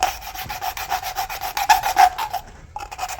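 A piece of hard plastic scrapes thick grease off a man-lift steer cylinder body in quick, rhythmic rasping strokes, close and fairly loud, with a short pause near the end.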